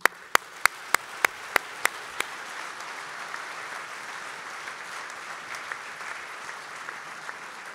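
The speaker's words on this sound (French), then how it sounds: "je vous demande de l'applaudir" A congress audience gives sustained applause, opening with a few sharp loud claps up close, then settling into a steady wash of many hands clapping at a distance.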